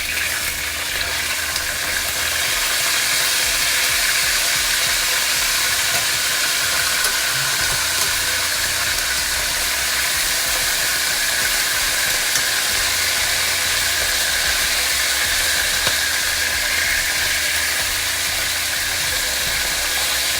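Salt fish fries in a pan, a constant loud sizzle and hiss that holds steady the whole time as the pieces are flipped, with no voices.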